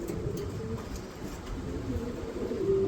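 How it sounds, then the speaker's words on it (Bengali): A pair of young cream bar racer pigeons gives soft, low cooing, close by over a steady background murmur. "এখানে দেখতে পাচ্ছেন এক জোড়া ক্রিম বার রেসারের বেবি কবুতর"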